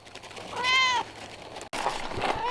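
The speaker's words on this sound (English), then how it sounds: "Oh, isn't this kitty so pretty?" An orange-speckled tabby cat meows once clearly and close, a drawn-out cry, then a softer, shorter meow follows after a brief cut, with faint room noise behind.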